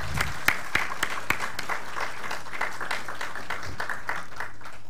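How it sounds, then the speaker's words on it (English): Audience at a medical science conference opening ceremony applauding, a steady round of clapping with distinct sharp individual claps near the start, continuing evenly before tapering off. "So let's just give him really a round of applause."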